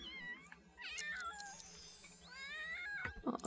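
A pet cat in The Sims 3 life-simulation game gives several clear, wavering meows, some rising and falling, over a quiet game backdrop, with a sharper burst of sound near the end.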